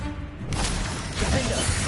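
A Bombarda spell blast in Hogwarts Legacy, a sudden loud burst halfway through that swells into a rumbling, crashing roar and carries on to the end.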